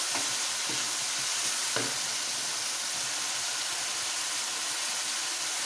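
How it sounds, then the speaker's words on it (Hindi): Onion paste fries in a pan for a stuffed capsicum dish, a dense constant sizzle with a few soft stirring scrapes early on, steady and close with no talk. "अब इसके अंदर प्याज का पेस्ट जाएगा।"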